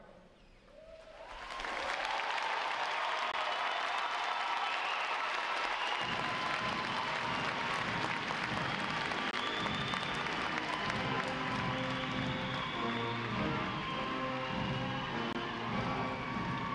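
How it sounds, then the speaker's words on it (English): Large audience at a U.S. Navy recruit training graduation ceremony bursts into sustained, loud applause for the graduating sailors, swelling within two seconds and holding as a dense roar of clapping and cheering to the end. "letting your applause show these sailors just how proud of them you are"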